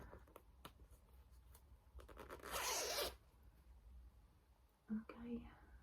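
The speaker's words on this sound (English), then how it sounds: "zipper." A zipper on a small carry bag is drawn open in one quick, close rasp, with soft whispering and light handling sounds around it.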